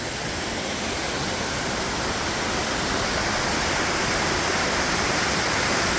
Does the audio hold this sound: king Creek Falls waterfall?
yes